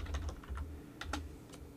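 Someone types briefly on a computer keyboard to enter a command in Minecraft: Education Edition, producing a quick, close run of soft key clicks with a pair of sharper taps near the end.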